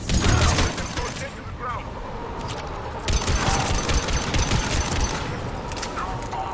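An enemy gun turret in Mass Effect 3 firing rapid bursts amid a loud, busy firefight, with rattling shots and crackling impacts overlapping near at hand while voices talk through the chaos.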